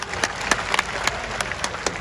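Crowd applause at a political campaign rally in Bhinmal, a loose burst of many hands clapping with sharp individual claps standing out, moderately loud and steady for a couple of seconds.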